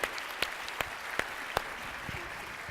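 Applause from a luncheon audience, a steady wash of clapping with a few sharper individual claps standing out, moderately distant and continuing throughout.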